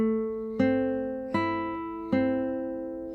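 Classical guitar played with a right-hand p-i-m-i free-stroke pattern over open bass strings: three clear plucked bass-and-treble attacks, each ringing and sustaining before the next, close and moderately loud with no talking.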